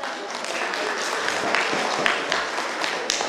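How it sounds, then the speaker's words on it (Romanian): An audience claps and applauds steadily for a children's performance at a folk customs and traditions festival, with a dense, even wash of hand claps throughout and no talk over it. "Vă rog să-i aplaudați!"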